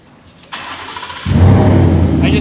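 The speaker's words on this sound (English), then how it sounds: "I'm gonna start it again, and I'm gonna get in the truck and see if that brake thing that they say works." A 2015 truck fitted with a Start-X remote starter cranks after a click, then its engine catches and settles into a loud, steady idle, heard close up with no talking.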